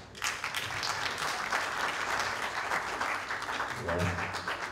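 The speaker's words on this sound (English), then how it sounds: "Okay, only the guys. Clap for this guy." Men in a comedy show audience clap on their own, a steady spread of hands at moderate volume, with a brief low voice cutting in near the end.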